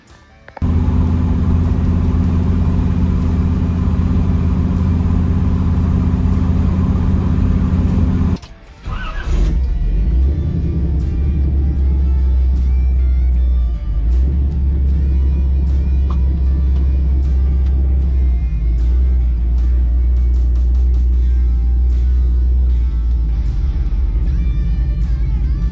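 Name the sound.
car engine running while breaking in 3.73 rear gears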